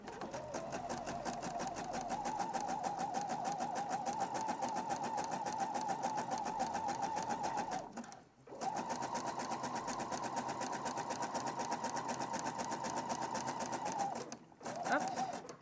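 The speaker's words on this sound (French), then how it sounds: "l'idée, c'est vraiment de faire notre point zigzag que sur un côté" Sewing machine zigzag stitching elastic onto swimsuit fabric, a loud, close, continuous whirring run with two brief pauses.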